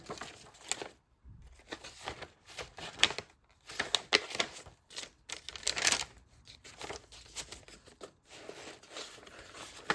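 Newspaper crinkling and rustling in irregular bursts, close up, with short quiet gaps between handfuls of crumpling.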